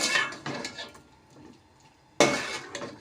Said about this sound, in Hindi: अब हम चिकन को जो है वो अच्छे तरीके से इसमें भुनेंगे।